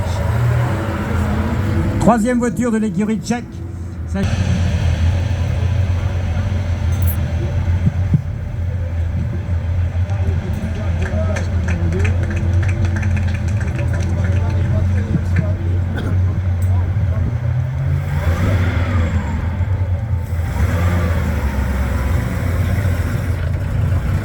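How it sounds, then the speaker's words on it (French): A vintage Bugatti Type 46 from a Czech team running its engine at a steady idle, a continuous low throbbing rumble heard under someone speaking French nearby. "ça c'est le moteur en marche."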